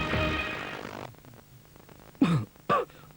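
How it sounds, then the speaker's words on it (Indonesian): Two short, harsh coughs from a person in an Indonesian TV commercial for Komik cough medicine, coming one after another near the end after a noisy opening and a quiet pause. "Batuk di komik aja."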